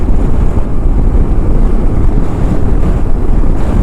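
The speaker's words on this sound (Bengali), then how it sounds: "সানসেটের টাইমে সি বিচে কোস্টলাইন দিয়ে বাইক চালাচ্ছি" Strong wind buffets the microphone on a motorbike ride along a sea beach coastline at sunset at Puri, a loud continuous roar with the wash of waves blended underneath.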